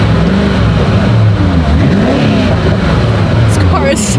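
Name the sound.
stock hypercar engine revving loudly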